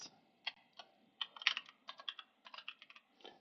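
Typing on a computer keyboard in irregular bursts of close, crisp key clicks, with short pauses between runs of strokes and no talk.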